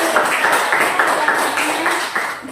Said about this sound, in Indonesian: tepuk tangan untuk tarik